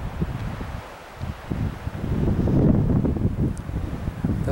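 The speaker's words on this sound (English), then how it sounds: "As you can tell, it is still windy." Strong wind blows across a hillside trail, gusting buffets rumbling against the microphone, dipping briefly then building into a sustained roar, with no voices.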